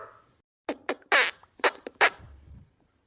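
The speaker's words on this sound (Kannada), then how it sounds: "ನೀನು ಬೋಡ ತಿಂದ್ಬಿಟ್ಟು ಬಂದು ನನ್ನ ಮೂತಿಗೆ ಹೂಸು ಬಿಡ್ತೀಯ ನೀನು" A run of several short, sputtering farts, loud and close, in quick irregular bursts, followed by a faint low rumble.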